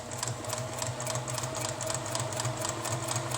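A Juki TL2010Q sewing machine runs at a steady moderate pace, its rapid rhythmic needle clatter continuous and close, with no one speaking.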